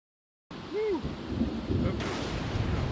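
A sudden loud thunderclap with rain during a thunderstorm in The Sims, rumbling and hissing continuously after a short silence, with a brief swooping tone near the start.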